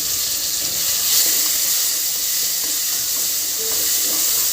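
Small pieces of chopped tomato are sautéed with onion and garlic and give a continuous, fairly loud hissing sizzle with faint stirring underneath. It stays even throughout and no voices are heard.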